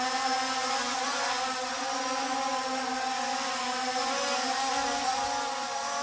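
A C Fly Faith 2 budget drone flies back and forth in a small, windy courtyard, its propellers giving a steady, loud electric whir with a buzzing tonal hum that holds evenly throughout, with no voices.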